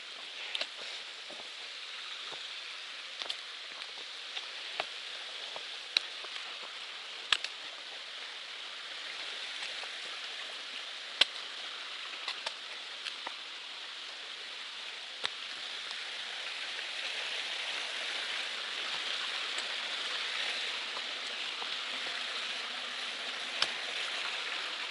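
Eliza Brook runs down a mountainside near Kinsman Mountain as a steady, moderate rushing of water, constant throughout with scattered small clicks and taps and no voices.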